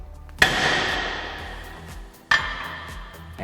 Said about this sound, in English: Let's see if the hammer works for us.